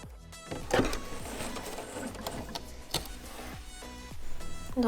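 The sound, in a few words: sewing machine topstitching fabric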